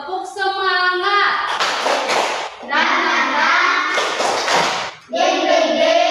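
A group of children claps in rhythm as part of an Indonesian classroom spirit-clap game, sharp thuds in bursts mixed with loud sing-song chanting voices.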